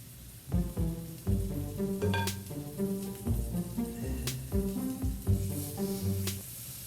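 A vegan veggie burger patty, formed by hand to medium thickness, sizzles in a hot skillet. Steady frying hiss runs throughout, with the sharper pops and crackles of a pan close at hand and no talking.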